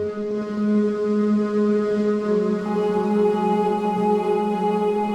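A sustained, airy synth pad with compression applied holds a steady chord with a dense, even level and a low pulse underneath, playing alone without any talking.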